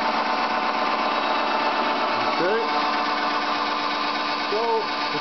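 Electric drill drawing about 4.6 amps in a motor demonstration setup runs steadily throughout, a continuous whine with brief tonal sweeps as the speed shifts, fairly close and alone.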